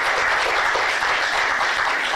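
Audience applause at a public talk on nuclear safety and Fukushima: dense, steady clapping from many hands that fills the whole stretch at a constant, fairly loud level.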